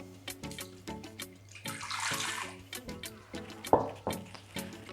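Half a cup of water pours into a blender for a homemade sesame salad dressing, a brief rushing splash under quiet kitchen sounds, followed by a clunk.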